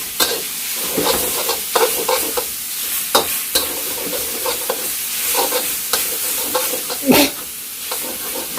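Pork stir-frying in a pan, a steady sizzle broken by repeated scraping and clattering strokes of a spatula, close and fairly loud, with no talk.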